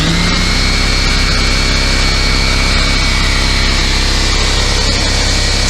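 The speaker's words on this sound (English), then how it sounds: "I've got compressed air now." A newly acquired air compressor runs inside a shop full of noisy equipment, giving a loud, steady mechanical drone with a persistent whine. It holds constant throughout with no talking.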